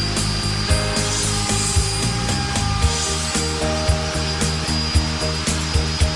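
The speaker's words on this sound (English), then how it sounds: "with small strokes, move the stylus throughout the inside of the template to clear out the material from the workpiece" A wood router guided by a pantograph copier whines with a steady, loud motor hum while it clears material from a workpiece, its cutting pitch rising and dipping with small, regular strokes and light knocks throughout.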